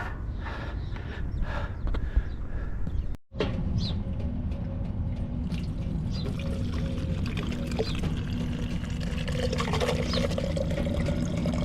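Water pours and splashes steadily, a constant close rush of flowing water after a brief drop out early on.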